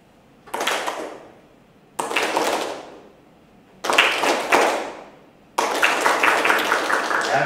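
A school audience at a student leadership training session claps in four separate bursts, each starting sharply and tapering off, the last burst louder and sustained, with short silences between.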